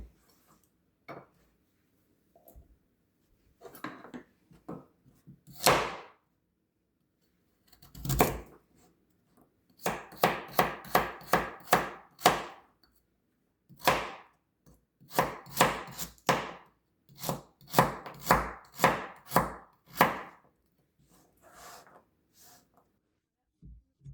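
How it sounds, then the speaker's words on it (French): A carrot chopped on a cutting board, with sparse knife taps at first, then quick bursts of rapid crisp chopping, close and clear with pauses between runs. "je vais simplement couper et éplucher ma carotte."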